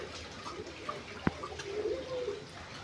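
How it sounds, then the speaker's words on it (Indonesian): A giant pergam, a large pigeon endemic to Indonesia, gives a soft, low coo that swells near the end, following a single sharp click, heard outdoors against faint ambient noise. "kali ini kita akan mereview tentang merpati jumbo, merpati raksasa, merpati besar."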